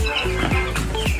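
Chickens in a poultry farm shed, with repeated clucks and calls over a dense, steady flock din, close and fairly loud, with no talking.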